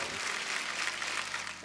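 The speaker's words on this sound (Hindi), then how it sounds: "बादशाह बाजी के लिए जोरदार तालियां" A studio audience claps for a guest arriving on a comedy chat show, a brief, steady wash of applause at moderate volume.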